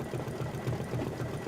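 An embroidery machine stitches quilting on a quilt block with a rapid, even mechanical chatter that repeats in a fast pulsing rhythm. It sounds close and steady, and no one speaks.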